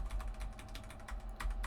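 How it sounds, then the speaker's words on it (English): Arrow keys on a computer keyboard tapped in quick succession while moving around a text editor, soft close clicks over a low steady background hum. "You can, of course, use the arrow keys like this"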